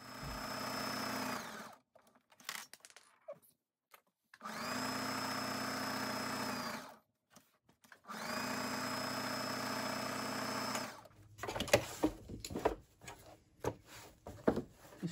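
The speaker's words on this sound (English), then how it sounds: "And I'm going to sew the 3 sides like that." A sewing machine stitches three sides of a fabric piece, running in three long steady bursts separated by short pauses, followed by scattered handling clicks and rustles.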